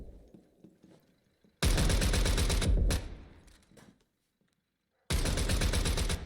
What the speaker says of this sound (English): Ooh, Techno will continue his dominance with that shotgun, getting Yanis.